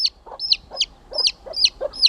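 Baby chicks cheep in short high chirps about every quarter second, with softer lower clucks from a chicken between them, close by with no talk.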